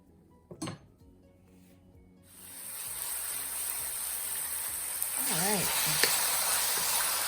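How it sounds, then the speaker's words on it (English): Pork belly and kimchi for kimchi stew stir-frying in a pan: a quiet start with a clink, then a steady close sizzle rising and holding, with a couple of utensil scrapes near the end. "And we're going to stir fry this up as well."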